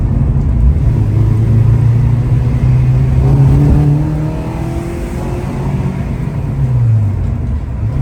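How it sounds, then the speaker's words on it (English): A Honda K20A Type R engine on its first start, revved lightly with rising and falling pitch over a steady loud drone, close up, then settling to a lower level. "I'm gonna give it a little bit of gas just to go."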